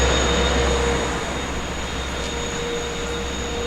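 A Long Island Rail Road freight train passing at Huntington station, a steady loud rumble of wagons and wheels with a faint tonal whine, gradually easing slightly as it rolls by.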